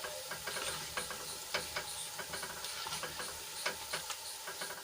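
Boondi batter drops frying in hot oil while a utensil stirs through it, producing a soft sizzle broken by frequent light metallic clicks and scrapes at an irregular rhythm.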